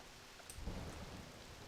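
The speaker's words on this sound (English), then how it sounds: "There's thunder. There's lightning." Rainstorm in the video game Black Desert Online: steady rain hiss under a soft, low rumble of thunder that rises briefly in the middle, faint and distant, with no voices.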